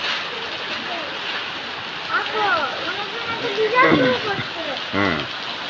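Steady rain hisses across the whole clip, with a voice talking over it in the middle and near the end.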